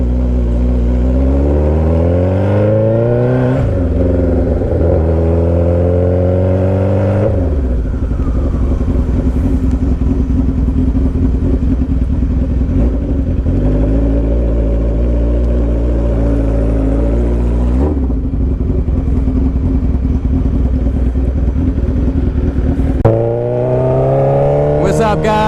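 A stretched 2007 Suzuki Hayabusa motorcycle rides close by, its engine loud and steady with repeated revving climbs and gear shifts over a rumbling drone, no talk heard.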